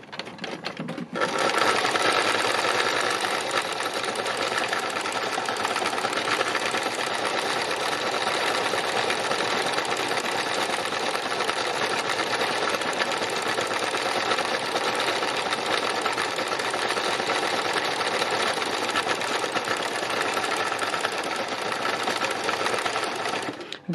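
Sewing machine doing free machine embroidery on fabric, a continuous fast mechanical whirring and needle chatter, steady and close, starting after a brief pause and running unbroken to the end with no talking.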